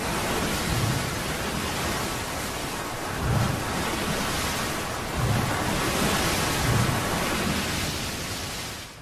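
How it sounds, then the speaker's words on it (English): Ocean waves build toward a rogue wave, a loud continuous roar of surf with heavy low surges that swell and break about every two seconds. "And that's a rogue wave."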